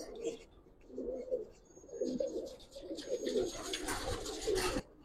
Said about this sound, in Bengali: যারা একটা সম্পূর্ণ মানে পাকিস্তানি যে কবুতর গুলো হয় না